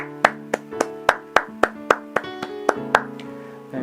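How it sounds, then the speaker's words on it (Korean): Church congregation at a Sunday teen worship service claps in a steady group rhythm, about a dozen sharp, close claps in a row, with no talking. "우리 예배를 받아주신 살아계신 하나님께 영광의 박수 올려드리겠습니다."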